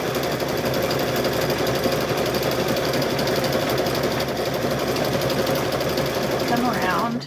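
A sewing machine stitches fabric onto a rope bowl, a loud, close, rapid mechanical chatter running steadily throughout before stopping at the end, with a voice talking faintly underneath.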